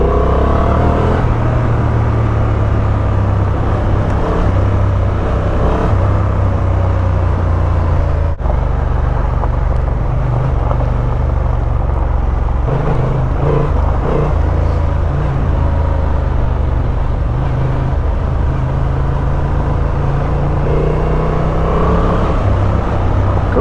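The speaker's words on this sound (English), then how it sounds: "Got to say, this engine is really nice off-road." A 2025 Honda Transalp motorcycle held in second gear on an off-road trail, its engine a steady loud drone with low rumble throughout, rising and easing slightly as the rider works the throttle, with no talk.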